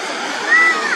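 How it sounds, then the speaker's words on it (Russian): A large fountain at Kharkiv zoo splashes as a loud, continuous rush of water, with voices heard briefly over it. "О, ты посмотри, какой у нас там фонтанище."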